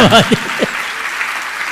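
A voice speaks briefly at the start, then an audience at a Jain monk's discourse breaks into steady, continuous clapping that carries on alone to the end.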